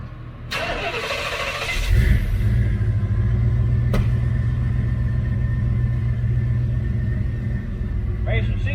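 A Blazer truck with 220,000 miles cranks and catches at about two seconds, then settles into a steady mid-pitched engine rumble as it pulls away, with a sharp click partway through and brief background voices near the end.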